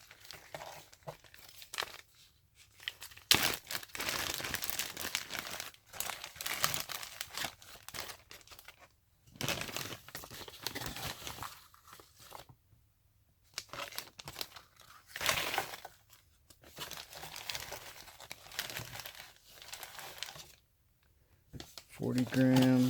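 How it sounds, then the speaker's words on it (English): Plastic Ziploc baggie crinkling and rustling as powder is mixed inside it for a whistle mix, in repeated bursts with short pauses between. "Now, I mix everything up in Ziploc baggies."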